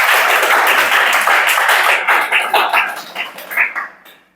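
A group of people claps together in a classroom, dense applause that starts full and loud, then thins into scattered separate claps before trailing off near the end.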